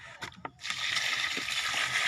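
Water is poured from a basin, giving a steady, fairly close rush of splashing and sloshing after a few brief knocks, with no talking.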